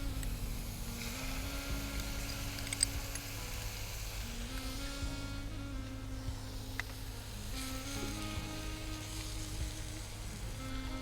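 Tomato puree poured into a hot pan for a Gujarati rajma soup sizzles and crackles steadily, a soft continuous hiss with a few small pops, close and moderate in level, with no talk.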